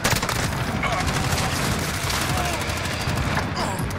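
Sustained rapid gunfire in the shooter Modern Warfare, where an FAL rifle is in play, a loud, steady stream of shots with booming undertones lasting four seconds, no voices over it.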